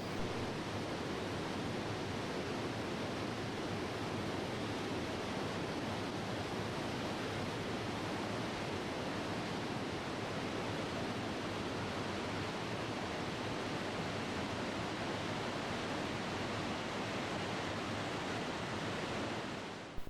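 Shoshone Falls in Twin Falls, Idaho, pours as a steady, dense roar of falling water, a constant broadband rush that holds unchanged and close for the whole span with no voices.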